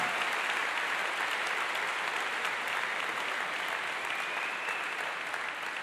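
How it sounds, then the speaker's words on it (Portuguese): A church congregation applauds visitors during a Portuguese-language worship service, a steady wash of many hands clapping at moderate distance, even and unbroken throughout. "vamos aplaudir os visitantes"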